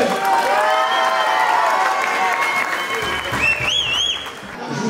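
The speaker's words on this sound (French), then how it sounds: "Un dernier tonnerre d'applaudissement pour Farès, s'il vous plaît." An audience at the inauguration of a gym in Lyon breaks into loud, sustained applause with some cheering and whistles, dense clapping filling the room before tapering slightly.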